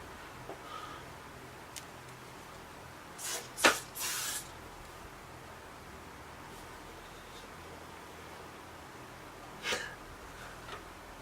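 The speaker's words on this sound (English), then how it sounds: "Take a little hairspray." Hairspray hisses out in two short close bursts of a few seconds, then one briefer spritz follows after a pause, all in a quiet room.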